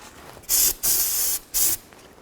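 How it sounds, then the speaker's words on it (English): Three short, loud hissing bursts from an aerosol can of brake parts cleaner sprayed on a 2000-2006 Chevy Tahoe rear brake assembly, close up, with brief pauses between them and no talking. "Now I'm going to use a little brake parts cleaner and just wipe this down"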